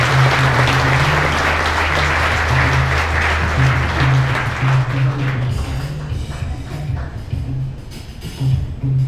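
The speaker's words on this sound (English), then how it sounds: "Let's give them a big round of applause." Crowd applause at a Walmart Supercenter grand opening in Lee's Summit, Missouri, loud dense clapping that continues for the full stretch, with a low hum from the sound system under it.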